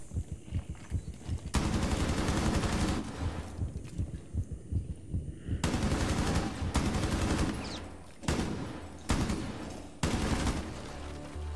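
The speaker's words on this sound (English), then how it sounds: "Ooh, that was a gunfight and a half." Heavy gunfire from a close-quarters gunfight in Rainbow Six Siege, with loud bursts of automatic fire and sharp shots coming in several separate volleys, close and dominant, with no talking over them.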